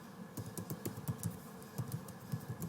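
Fingers type CSS code on a computer keyboard, quick irregular clusters of light key clicks close by, fairly quiet with no talking.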